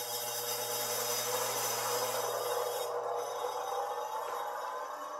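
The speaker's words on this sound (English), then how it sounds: "I'm going to go ahead and grind this one." A bowl gouge is held against a spinning grinding wheel, giving a steady, continuous grinding hiss with a constant motor hum underneath, close and even throughout.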